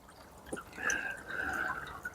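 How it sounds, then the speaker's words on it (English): A garden koi pond waterfall trickles at a turned-down, low flow in the UK winter, giving a soft steady splashing with faint drips, gentle and close with no talking. "the waterfall running, but I've turned the flow right down"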